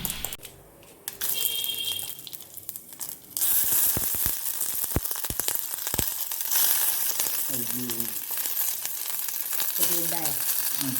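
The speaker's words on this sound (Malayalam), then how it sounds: "അതിലേക്ക് കടുക് വറ്റൽമുളക് വേപ്പിലേക്ക് എടുത്തിട്ട് ഒന്നത് വഴന്ന് വരുമ്പോഴേക്കും" Mustard seeds, dried red chillies and curry leaves frying in hot oil for a cowpea curry, a steady close sizzle with sharp crackles that thickens after the first few seconds and keeps going to the end.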